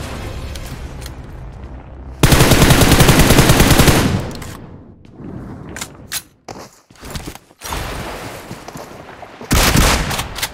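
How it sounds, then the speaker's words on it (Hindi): Gunfire in a battle royale video game, with a loud sustained automatic burst, then scattered shorter shots and pauses, and another heavy burst near the end. "मुझे लेफ्ट वाले कंपाउंड से फायर की साउंड आती है।"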